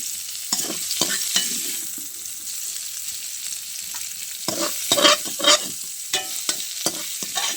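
Food fries in hot oil in a pan for a fish-with-cauliflower dish. A continuous sizzle runs under repeated stirring and scraping strokes, close and moderately loud, with no speech.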